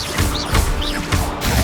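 A Confringo blasting spell striking in the Hogwarts Legacy video game, heard as a loud, dense crashing burst that holds through most of the short moment, with a couple of thin chirping whistles over it.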